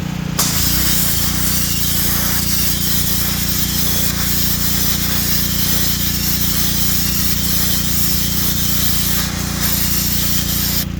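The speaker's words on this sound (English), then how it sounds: "let's take this completely rusted piece here and blast it and see what it can do." A $30 sandblaster attachment on a pressure washer blasts a completely rusted metal piece, giving a loud, steady spraying hiss with a rough grit edge that runs unbroken throughout, with no talking.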